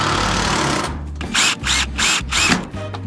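A power drill drives screws while building a farm wash and pack station, a loud close whine that starts steadily and then breaks into four short, rising bursts separated by brief pauses, with no talking.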